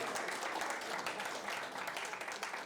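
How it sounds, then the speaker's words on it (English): Audience applause at a panel discussion on the future of money, a quiet, steady wash of clapping that holds evenly throughout. "That's something to applaud, right?"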